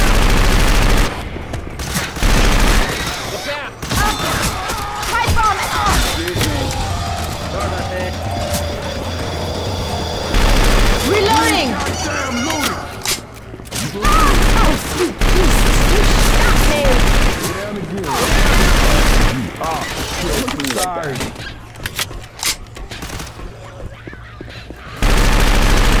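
Rapid bursts of gunfire from the zombie shooter Left 4 Dead 2 on the Dead Center campaign, loud and repeated across the whole stretch with short pauses, while players shout over the shooting.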